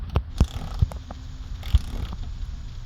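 A ratchet clicks in uneven bursts while tightening the fitting on the engine coolant container of a 2017 Chrysler Pacifica, close and fairly quiet over a steady background hum.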